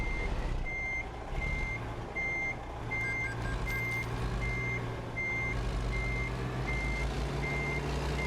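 A truck backing up in American Truck Simulator, its reversing alarm beeping in an even, regular rhythm over a low steady engine rumble, loud and close, with no talk.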